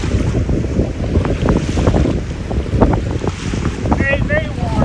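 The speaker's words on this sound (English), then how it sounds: "that wind is chilly though" Steady wind gusting across a shallow lakeshore in summer, a broad continuous rush with microphone buffeting and faint water lapping, with brief birdlike chirps near the end.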